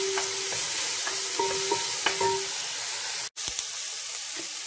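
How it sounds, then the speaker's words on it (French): Bacon lardons fry in a cast-iron casserole with a close, steady sizzle, thin whistling tones and a few soft taps, and a brief dropout near the end. "je fais revenir un peu les lardons, histoire de leur donner une petite couleur et d'avoir un petit peu de graisse dans le fond de la cocotte"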